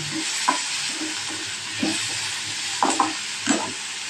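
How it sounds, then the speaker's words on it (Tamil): Chopped tomatoes and curry leaves sautéing in a pan for a green turkey berry tamarind kulambu, giving a steady close sizzle with occasional stirring scrapes. "இப்போ நீங்கள் நறுக்கி வச்ச தக்காளி கருவேப்பிலை இது ரெண்டையுமே போட்டு அதை கூட சேர்ந்து கொஞ்சம் வதக்குங்க"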